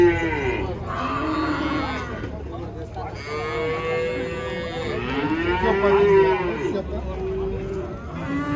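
Cattle mooing repeatedly at a livestock market in Kyzylorda, with long, low calls rising and falling over steady crowd noise and nearby bargaining voices.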